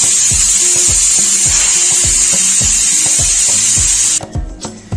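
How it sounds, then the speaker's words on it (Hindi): A pressure cooker cooking split green moong dal hisses loudly with a continuous jet of steam and a rapid rattling, puffing weight, then cuts off near the end. "अब इसकी स्टीम को अच्छे से रिमूव कर दूंगी"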